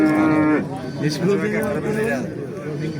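A cow at a livestock market lets out a loud, close, drawn-out moo lasting a couple of seconds, with people talking in the background.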